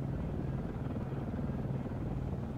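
A UH-1 helicopter flies past in the military game ArmA 3, a steady, rumbling rotor and engine drone holding at a fairly even level throughout, with no talk.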